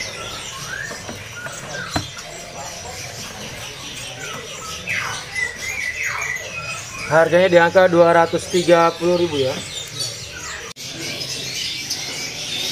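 Female AFS canaries and other caged birds chirp and squawk at a bird shop kiosk, busy trilling calls rising in a burst midway, heard under someone talking about prices.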